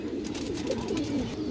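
Young pigeon chicks, including green-necked and frilled-neck squabs, give soft low cooing calls, a brief close murmur with a few rising coos.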